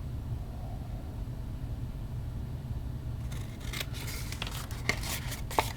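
Scissors snip paper for a small cube box, a few crisp cuts and rustles arriving after a quiet stretch, close and fairly soft, with a couple of sharper clicks near the end.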